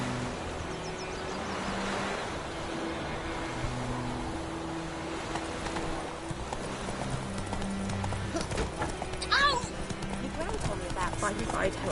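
Roach, a video game horse ridden around White Orchard, trots with rhythmic clip-clop hoofbeats and gives a whinny, over wind and surf-like ambience while voices talk throughout.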